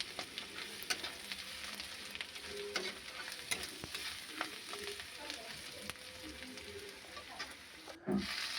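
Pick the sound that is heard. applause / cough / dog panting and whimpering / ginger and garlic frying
ginger and garlic frying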